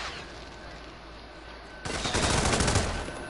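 A burst of gunfire from the Hitman 2 video game sets in abruptly after a quieter stretch of ambience, with loud, rapid, closely spaced shots that run dense for about a second and a half before easing slightly.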